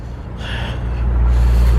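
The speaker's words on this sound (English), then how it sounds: "some truck that comes along with a Jake brake" A truck braking with a Jake brake on a road beside a wooded pine area, a low rumbling engine growl building from moderate to loud and sustained under steady traffic noise.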